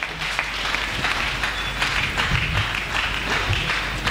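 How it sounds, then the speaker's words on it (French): A church congregation applauding loudly in praise, sustained dense clapping from many hands filling the room, steady throughout. "Nous acclamons très fort pour le roi des rois"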